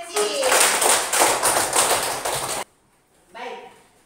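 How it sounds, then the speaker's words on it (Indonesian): Classroom applause from a group of children clapping together, a loud dense burst of hand claps lasting a couple of seconds that stops abruptly, followed by a brief faint voice. "Kita beri tepuk tangan untuk Ceci."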